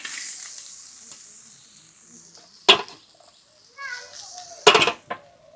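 Fried vegetables tipped into a hot wok for fried rice hiss and sizzle softly, broken by a few sharp stirring and scraping clatters near the end.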